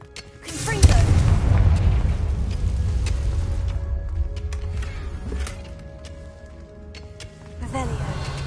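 Confringo blasting spell in Hogwarts Legacy, a loud booming blast erupting after a quiet start and rumbling on for several seconds, then a second burst near the end, with speech in the background.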